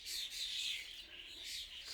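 Starlings chirp in a cherry tree, bright high twittering calls that rise and fall continuously, faint and somewhat distant, with no talk.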